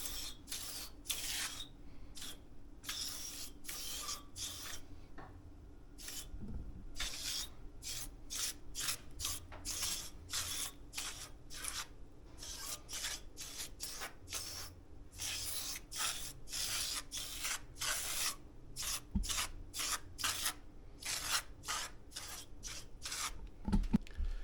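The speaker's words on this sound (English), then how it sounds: "Now we'll spray it on the coil like it's supposed to be." A hand sprayer mists cleaner onto a heat pump coil in many short, rapid bursts of spray. The hissing spritzes repeat steadily and close for over twenty seconds with no talk.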